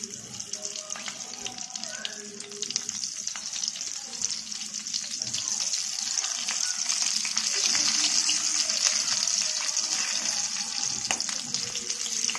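Green chillies and turmeric fry in oil on a low flame, a continuous sizzle that builds and grows louder, with occasional crackles and a voice talking over it.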